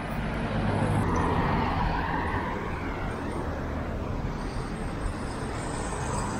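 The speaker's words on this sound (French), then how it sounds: "Mais vous voyez, la circulation est pas dingue." Steady street traffic rumbles near Bangkok, Thailand, around late morning, a continuous low roar of passing cars and buses with no distinct horns, fairly distant and even.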